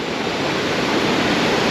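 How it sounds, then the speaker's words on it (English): St. Mary Falls in Glacier National Park pours in a loud, steady roar of rushing water, a dense and unbroken wash of sound heard close up for a brief moment. "we've made it to St. Mary Falls"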